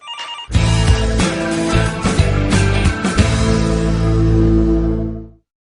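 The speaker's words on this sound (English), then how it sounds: "Linda, the phone is ringing." A telephone rings steadily in an office setting, loud and close, with a sustained tonal ring layered over musical tones that continues for several seconds and then stops abruptly.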